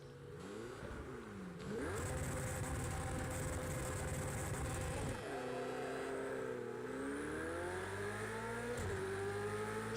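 Race car engines in Project Cars 2 at the Red Bull Ring, Spielberg, rising and falling as the car revs up, shifts gears and accelerates, loud and close with no talk.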